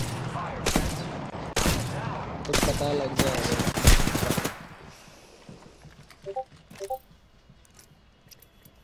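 Gunfire in the video game Apex Legends: several loud, sharp bursts land in the first four seconds, including a dense rapid volley, then fade to fainter scattered shots while people talk over it.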